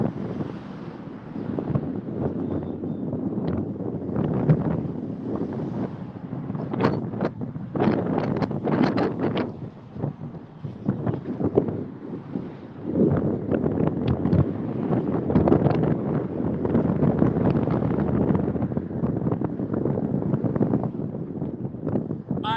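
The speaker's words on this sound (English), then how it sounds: "It's getting windy up here." Steady wind buffets the microphone at a railroad hump yard, a rough continuous roar with gusty surges throughout.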